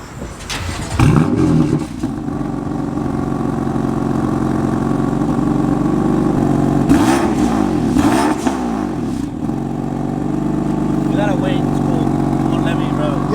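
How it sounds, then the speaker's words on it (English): A car engine cranks and fires up, then settles into a loud idle with a couple of rising and falling revs, recorded close with some background chatter around the vehicle. "I'm gonna have Javier give you guys a quick startup to see how it sounds, and then like a couple revs"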